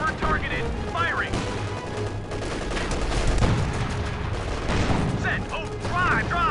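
Tank cannon and gunfire in the WW2 strategy game Company of Heroes 2 during a Siegfried Line assault, continuous dense battle noise with booms and rattling fire, whistling shells and voices over the din.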